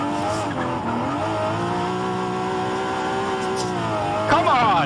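A car in the Forza Horizon 5 racing game drifts with a clutch kick, its engine droning steadily while the tires squeal continuously, the engine note rising sharply near the end.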